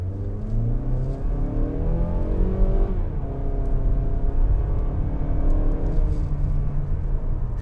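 A 2021 Mazda CX-30 2.5 S Premium drives and accelerates, its engine note rising through the gears from inside the cabin, loud and steady with one clear gear change partway through.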